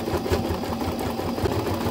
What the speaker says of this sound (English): I sew the cord in a circle.